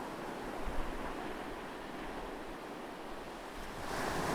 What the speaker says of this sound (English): The gentle roar of the ocean made her feel relaxed.